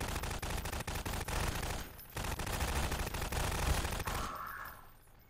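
SMG gunfire exchanged between NPCs in Garry's Mod, rapid bursts of automatic shots crackling densely and continuously, with a brief gap near the middle before the firing resumes and then tapers off.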